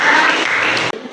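Applause breaks out in a classroom for a student group finishing its presentation: a dense, steady patter of many hands for about a second, then cutting off abruptly.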